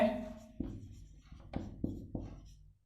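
Chalk or pen strokes while working a geometry proof on a cyclic quadrilateral, a few sharp tapping marks in quick succession after a faint opening, close and fairly quiet.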